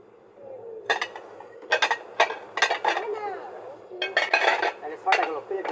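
Dinner-set plates and dishes clink and knock together as they are handled and counted, a series of sharp ceramic chinks in uneven bursts, close by, with people talking throughout.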